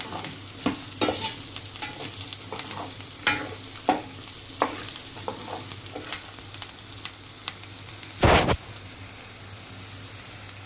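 Upma fries in ghee while being stirred, a continuous close sizzle punctuated by irregular scraping clicks of the spoon and a louder burst near the end, with no talk.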